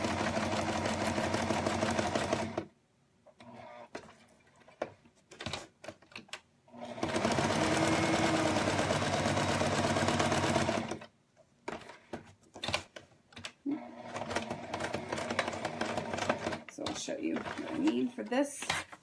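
Sewing machine stitching a card project, loud close bursts of fast mechanical whirring in several runs separated by pauses where a person talks.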